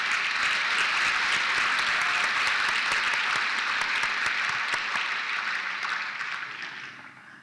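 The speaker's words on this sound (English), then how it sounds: "Let's give these people a round of applause" Steady applause from an audience at a college science awards ceremony, dense and sustained clapping that holds evenly before tapering off near the end.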